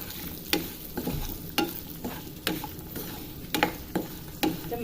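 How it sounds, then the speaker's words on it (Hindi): Turmeric and red chilli powder sauté in a pan with a soft sizzle, and a spoon stirs in repeated sharp scrapes and taps, close and alone. "जब मसाला भून जाएगा अच्छे से"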